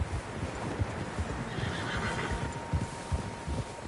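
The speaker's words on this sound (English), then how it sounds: "Horses, quite a few of them." Several horses in the Red Dead Redemption 2 game give a faint whinny over a steady outdoor ambience, with soft hoof clops scattered throughout at moderate distance.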